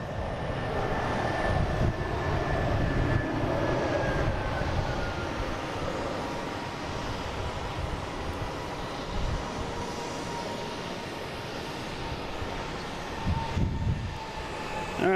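An airliner of flight 251 from Barcelona moves at Boston Logan International Airport, a steady distant engine drone with a high whine that slowly falls in pitch, heard alone without talk.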